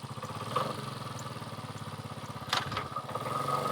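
A Honda CT90 motorcycle engine runs steadily at a fast, even idle-like pulse with a mechanical clatter, close by and continuous, with a brief blip of revs partway through.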